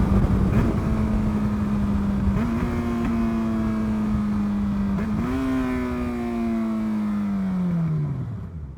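A car engine revs on a road, holding a steady drone, then climbing in two stepped rises before the pitch sweeps down as it eases off near the end, close and prominent.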